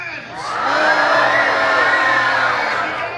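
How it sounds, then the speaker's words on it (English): A theater audience at the Monsters, Inc. Laugh Floor comedy show in Magic Kingdom screams and cheers in one loud, sustained roar of many voices that swells and holds for about three seconds. "I'm gonna say it, you're gonna scream."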